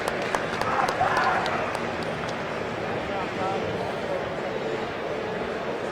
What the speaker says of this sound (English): Round of applause for Steve and his team.